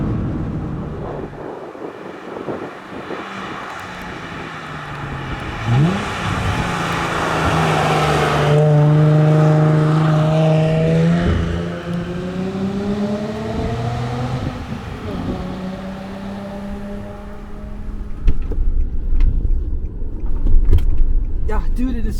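A 2007 Nissan 350Z HR engine revs up and down with rising and falling harmonic sweeps, loud and fairly close, with heavy wind buffeting across the microphone throughout.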